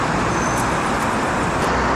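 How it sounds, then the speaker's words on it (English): Dense road traffic on a Shanghai city street under a freeway makes a loud, continuous roar of passing vehicles with no pauses. "lots of traffic."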